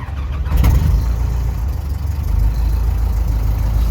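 An AVserv O-200E aircraft engine starts and settles into a loud, steady mechanical rumble that continues without a break to the end, with no voices.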